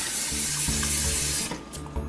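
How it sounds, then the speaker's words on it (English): Water pours and splashes as it is dumped out of a water filter housing, a short continuous gush that tapers into a few drips and sloshes. "dump out the water"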